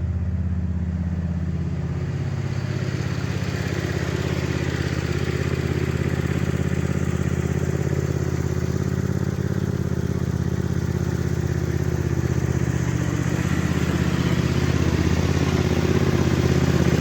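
Small red tractor engine running steadily with a low, rumbling drone that holds constant throughout, close by and fairly loud.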